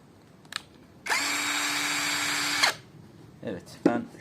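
A five-head cordless drill drives a large screw in one steady, high-pitched whirring run of about a second and a half, close and loud. Brief speech follows.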